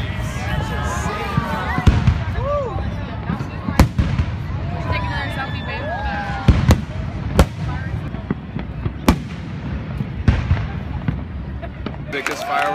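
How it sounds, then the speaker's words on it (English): At a Fourth of July party in LA, fireworks boom and crackle again and again. Sharp bangs come at uneven intervals, and people whistle and talk excitedly nearby. "Biggest fireworks show in LA"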